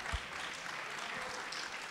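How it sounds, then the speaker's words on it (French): Crowd applause at a National Front political meeting in Toulouse, a steady wash of many hands clapping that fills the whole moment at moderate level, with no voice over it. "je ne veux pas couper d'applaudissements"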